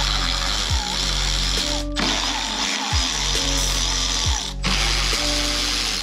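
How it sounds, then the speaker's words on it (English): Ratchet spinning Torx 25 bolts off a 2023 BMW S1000RR motorcycle, with several bursts of rapid clicking pawl action separated by brief pauses, close and loud. "There's gonna be one bolt right here and then one bolt right here on both sides here. And you're gonna take these both off."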